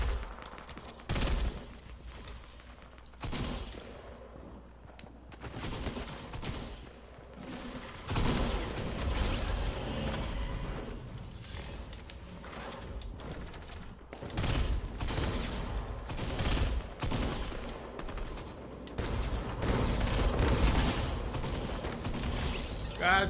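Gunfire in Fortnite crackles in repeated sharp bursts and single reports, some close and loud, others fainter, spread across a busy battle with mechanical clicks between shots and no clear talk.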